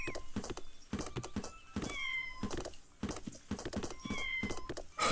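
Cartoonish cats meow repeatedly in a tree-chopping party video game, over busy rhythmic game music and thumping chops, with several overlapping mews spread through a dense, loud mix.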